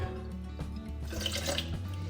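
Water is poured into a gluten-free sourdough starter as a soft, steady trickle lasting about two seconds, quiet and close.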